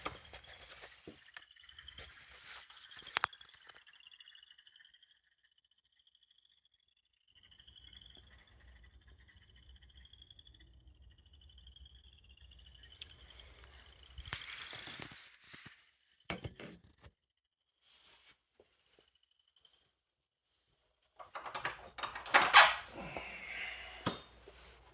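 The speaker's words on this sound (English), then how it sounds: "a cacophony of frogs" Faint chorus of frogs by a pond at night, a thin high trilling that rises and fades over a quiet background, broken by a few soft clunks and rustles as a door is opened.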